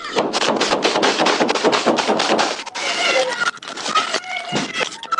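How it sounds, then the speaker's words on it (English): Gunshots fired at a moving car, a rapid burst of loud cracks layered over frantic shouting voices, with a brief lull before more scattered shots and yelling. "Shot fired!"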